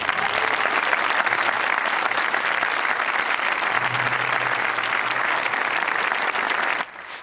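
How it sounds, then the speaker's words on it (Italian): Sustained, loud applause from a large audience at a sold-out Nabucco opera performance in Tindari, dense steady clapping, cutting off abruptly near the end. "il pubblico interrompe la scena con un applauso che dura diversi minuti"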